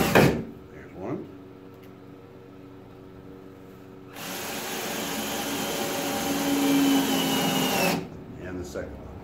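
A power driver runs screws into wooden floor planking for a boat, with one sustained whirring run lasting several seconds up close and brief tool noises and movement before it.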